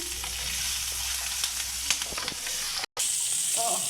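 Cashews, raisins, curry leaves and chopped green chillies frying in hot oil, a dense steady hiss and crackle close up, with a brief dropout near the end.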